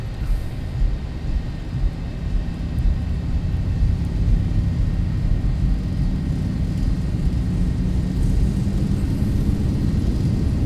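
Zibo 737-800 jet engines at takeoff power in X-Plane 11, a loud, steady deep roar with a broad rumbling whoosh holding constant throughout.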